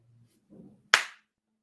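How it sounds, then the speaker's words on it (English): A single sharp slap of palms meeting in a self high five, one crisp close smack after a brief soft rustle, then quiet. "Give a high five to yourself."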